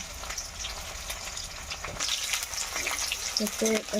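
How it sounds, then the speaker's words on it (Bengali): Onion and bay leaves frying together in hot oil give a steady close sizzle that grows louder and busier partway through, with a brief voice-like tone near the end. "তেল পেঁয়াজ তেজপাতা একসাথে ভেজে নিতেছি"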